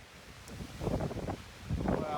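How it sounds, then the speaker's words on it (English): Strong wind blows on a mountain hike on the Heart Mountain loop in the Rockies near Canmore. Gusts buffet the microphone in rising, rumbling waves, loud and close, with no clear talk. "There's a lot of wind"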